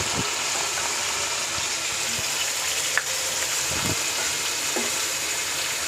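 Onions in a karahi with browned chicken, a steady broad sizzle of frying that runs evenly throughout with a few faint knocks and scrapes underneath.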